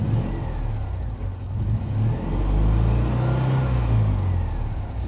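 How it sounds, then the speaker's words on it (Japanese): A Citroën 2CV engine, restarted after months of sitting unused, runs loudly and close up, its idle rising into a sustained rev and then easing back, with no talk over it. "まあ、エンジン自体は快調ですね。"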